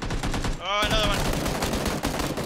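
Rapid close gunshots pour out in the survival game Miscreated, a dense loud burst of automatic fire with a short tonal sound near the start and voices underneath.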